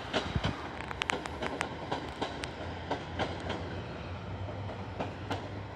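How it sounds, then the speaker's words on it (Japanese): A Yamaguchi Line train departs Shin-Yamaguchi station, rumbling past with rhythmic clickety-clack of wheels over rail joints and a low steady drone, heard from nearby without talking. "山口線の列車が行きましたね。"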